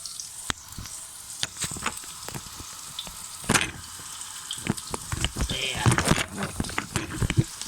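Garlic frying in a pan with onions, a moderate sizzle broken by sharp clattering scrapes and knocks of a spatula stirring, irregular and close, growing busier toward the end.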